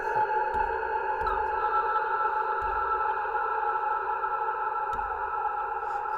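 Strymon Starlab reverb pedal with feedback turned up, producing a dense, sustained shimmering drone with steady layered tones and faint low thumps underneath, continuous throughout.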